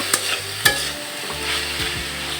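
Pieces of chicken breast fry in a pan in a steady broadband sizzle, broken by a couple of sharp stirring clanks near the start, with no talk.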